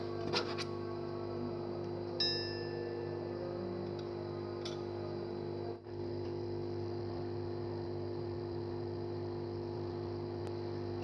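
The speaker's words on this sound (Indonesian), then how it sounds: "Kita nyalakan blower." A hot air blower runs at a bench during repair of a dead Redmi 9 smartphone board, giving a steady electric hum and whir throughout with a few faint ticks and clicks.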